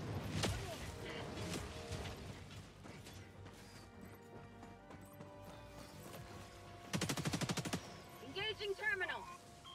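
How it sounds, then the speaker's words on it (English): Anti-materiel rifle fire in a video game, sounding as a heavy crash near the start, then a rapid burst of loud repeated shots and further sharp blasts amid busy game effects. "That's the anti-material rifle."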